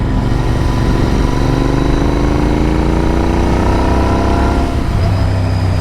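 A loud Royal Enfield Interceptor motorcycle engine with aftermarket exhaust cans revs and drones steadily with a throaty exhaust note, pitch rising gradually, then dropping back toward idle near the end.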